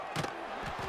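Home football crowd at a Rebels game cheering in a brief, steady roar with a short louder swell, heard alone without talk.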